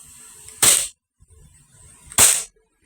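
Two sharp, loud pops from a KJW KP11 CO2 airgun, roughly a second and a half apart, each a crisp gas-release crack with a short hissing tail, with a faint room murmur in the gaps.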